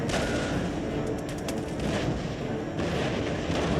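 Massed musket volleys and battlefield gunfire from line infantry fighting in Total War: Empire, a dense, continuous roar of overlapping shots that stays loud and close for the whole stretch.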